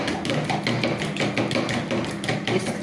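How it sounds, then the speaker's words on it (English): Eggs whisked briskly in a bowl, the whisk clicking and tapping against the sides in a fast, steady rhythm, close and fairly loud throughout with no talking. "whisk everything together."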